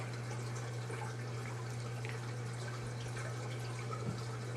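Aquarium items are rinsed under a running tap, a steady close hiss of flowing water over a low electrical hum, with no talking.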